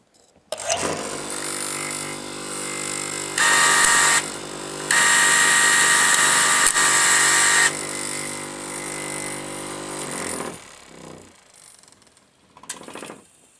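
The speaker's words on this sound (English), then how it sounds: "This lever, when pressed down, will activate the sharpening mechanism, which will go down and come back for a whole cycle, thus sharpening the blade." A straight knife cloth-cutting machine used in garment and footwear cutting rooms runs its blade-sharpening cycle. Steady mechanical whirring surges louder twice as the sharpener travels down and back, then the motor winds down with a few clicks.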